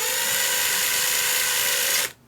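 Power tool backing a bolt out of a Sur Ron electric bike jackshaft, a loud continuous high-pitched whir held steady for about two seconds before cutting off abruptly.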